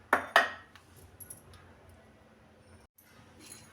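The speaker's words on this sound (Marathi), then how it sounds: "आणि छान असं मिक्स करून घेऊया." Ragi ladoo mixture stirred with ghee in a bowl, a spoon scraping and clinking twice sharply near the start, then faint soft stirring scrapes that fade toward quiet.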